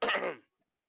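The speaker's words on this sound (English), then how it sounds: "I stand up and I cough my cough loudly." A single loud, harsh throat-clearing cough bursts out close up and ends abruptly, followed by silence.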